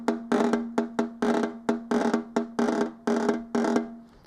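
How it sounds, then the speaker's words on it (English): A snare drum plays a string of short buzzed five-stroke rolls, each a brief pressed buzz ending in a crisp accent, repeated about nine times in a quick, steady pulse, close and solo. "You can play those as short little 5-stroke rolls with a buzzed execution."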